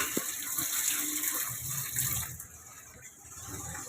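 A weak stream of water runs from a tap while laundry is filled by hand in a home in Tondo, Manila, a soft continuous trickle that eases slightly toward the end.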